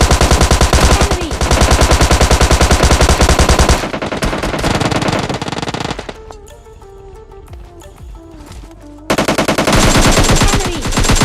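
Automatic gunfire in the mobile shooter PUBG Mobile Lite: long rapid bursts, loud and close, drop to sparser, quieter shots in the middle before a heavy burst returns at the end.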